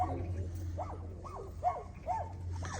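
A handful of short, yelping dog barks repeat at roughly even intervals over a steady low hum, with no one talking.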